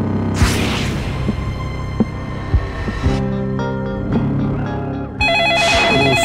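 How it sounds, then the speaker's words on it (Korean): A shop telephone at an accessory store rings repeatedly in steady bursts, fairly loud and close, with a low hum and room noise underneath and no talk. "소윤이가 일하는 가게 전화벨이 울린 건 8시 35분입니다"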